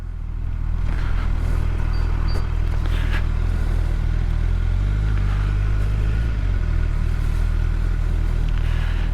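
A Gen 3 Suzuki Hayabusa motorcycle riding and accelerating, a loud continuous engine roar with wind rush and a brief hang in pitch during a shift.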